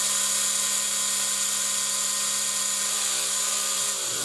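The electric motor of a Hyper Go MJX 14302 1/14 RC car whines high and steady at full throttle, loud and close, then winds down sharply at the end.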